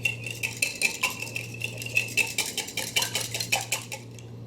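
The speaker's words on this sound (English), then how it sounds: "We're gonna give him a quick whisk before we add the rest of the stuff." Two eggs are whisked quickly in a bowl for chocolate cupcake batter, producing a rapid, steady run of metallic clinks and taps from the whisk against the bowl, close and fairly loud with no talking.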